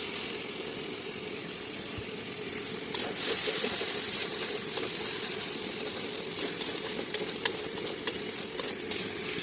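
Duck meat cooking in a pan as water is poured in, a steady sizzling hiss that turns busier and crackly partway through, with scattered pops and stirring clatter.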